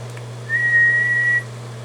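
A single steady whistled tone into a Dyna Mike microphone, held for about a second, close and clear, over a constant low electrical hum.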